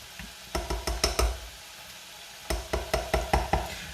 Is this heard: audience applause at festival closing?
no